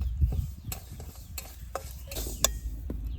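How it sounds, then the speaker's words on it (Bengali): Moong dal is dry-roasted and stirred in a pan, producing faint scattered scrapes, ticks and light sizzling at a quiet, close level, with no one speaking. "মুগ ডাল প্রায় ভাজা হয়ে গেছে আর একটু ভেজে নেবো"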